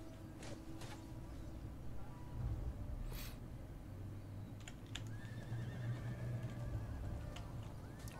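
Horses in the video game Rome Total War II neigh and whinny in short calls over a low rumble of hooves and battle ambience, moderately faint and mixed with scattered clicks.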